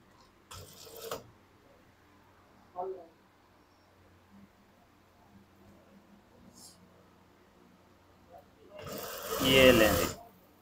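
A sewing machine stitches the second side of a zipper, whirring in a short burst near the start and a louder, longer run near the end, with faint mechanical clicks and quiet stretches between.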